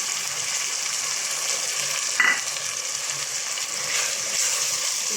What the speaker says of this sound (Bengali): এবার এটাকে ভালো করে কষে নেব।